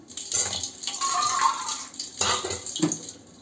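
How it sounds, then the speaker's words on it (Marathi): Water being poured into cooked dal with tomato in a pot, two or three short splashing gurgles up close, fairly soft, with no talking. "थोडंसं पाणी घालूया आपण यात।"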